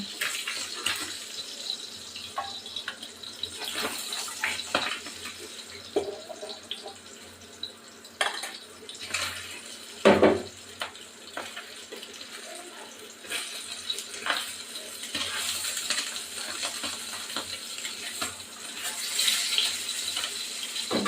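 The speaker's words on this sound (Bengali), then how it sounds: "পাবদা মাছটাকে পরিষ্কার করতে হবে" Pabda fish are washed by hand under a running kitchen tap. Steady splashing water is punctuated by irregular sloshes and a sharp clack near the middle, with no talk.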